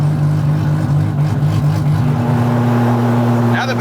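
A turbo 2JZ-swapped Dodge Charger accelerates nearby, its engine droning loudly and steadily, then shifting to a higher pitch partway through and building toward a sharper burst at the end.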